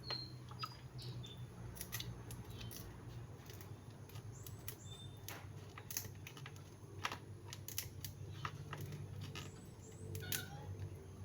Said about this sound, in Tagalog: gamitin natin itong gunting dito, mapurol na itong natin